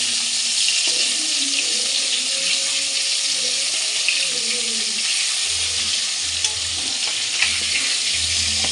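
Small puti fish fry in a pan with a steady, bright hissing sizzle that runs the whole time, alongside a running water tap, with a few low knocks and faint clinks from the kitchen.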